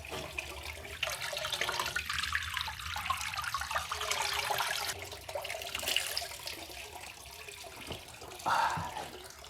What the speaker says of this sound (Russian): Под беседкой находится родник и купель.